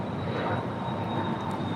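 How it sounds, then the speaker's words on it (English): A Cessna Citation XLS business jet departs a runway at LAX, its engines a steady, loud, broadband roar with a thin high whine on top. The sound stays constant throughout, and no one speaks. "This Cessna Citation XLS departing to Tucson, NetJets flight 661"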